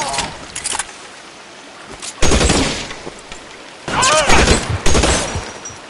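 Gunfire in the video game L.A. Noire, loud bursts of shots arriving in two long volleys with a brief crack early on and quieter gaps between.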